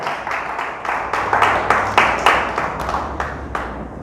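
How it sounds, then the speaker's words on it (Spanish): A church congregation claps in a sustained burst of applause with rhythmic swells, fairly loud and close, with no speech on top. "Dele fuerte el aplauso a Dios, por favor."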